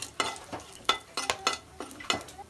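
Bay leaves, cinnamon and cloves dropped into hot oil in a kadai, sizzling with repeated stirring scrapes in a steady rhythm, close and fairly loud.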